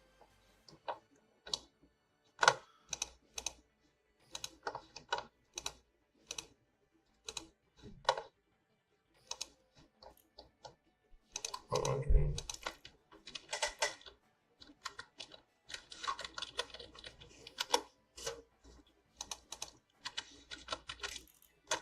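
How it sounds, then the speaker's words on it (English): A computer keyboard and mouse click away during editing: quiet, close-up taps and clicks come in irregular bursts separated by short pauses, with no voice. "I'm sorry if you guys can hear my clicking. I'm editing."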